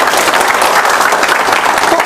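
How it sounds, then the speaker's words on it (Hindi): A dense burst of clapping fills a training hall for a Vestige network business seminar, loud and continuous from many hands with a faint crowd murmur underneath. "एक बार जोरदार ताली बजा दो"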